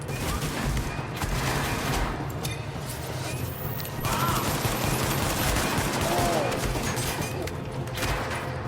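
Bursts of rapid automatic gunfire and shots from a multiplayer shooter video game, loud and nearly continuous across the stretch with a few brief pauses.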